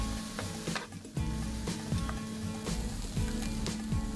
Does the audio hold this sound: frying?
yes